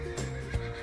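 Horse in the Minecraft video game lets out a short, close whinny, a quick wavering neigh over a faint game background.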